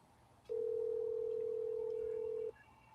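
A single steady ringback tone on an outgoing phone call, a clean two-second beep heard close over quiet room noise.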